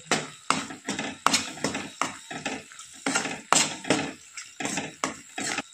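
A spoon stirring garam masala, coriander powder and turmeric into a ground paste in a pan for a soybean vegetable dish: a rapid, rhythmic series of close scraping and tapping strokes, steady throughout with no talk.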